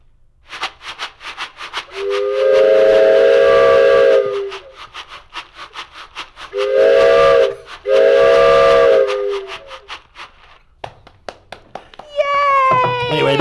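A Kraft macaroni box is shaken to imitate a train, the rhythmic rattling chugging along while a voice imitates the train whistle with long, loud hoots, two of them close together, and a higher squeal near the end.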